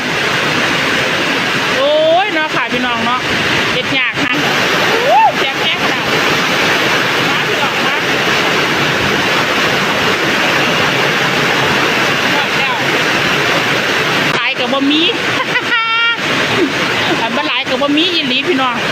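Heavy rain and wind rushing in a loud, constant roar, with a person talking intermittently over the downpour.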